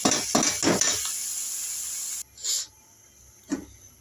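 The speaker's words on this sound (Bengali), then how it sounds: "এখন আমি মশলাটা ভালো মতো কষায় ফেলছি" Ground spices with turmeric and salt are stirred and sautéed in a pan. A few quick scraping strokes ride over a hot sizzle, which cuts off abruptly, followed by two isolated scrapes in near silence.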